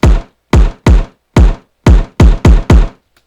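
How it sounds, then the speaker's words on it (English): A break bounce kick drum pattern of eight punchy, booming electronic kicks in a syncopated, uneven rhythm, loud and dry with short decays and gaps of silence between hits. "You have this kick pattern, or a kick pattern like this."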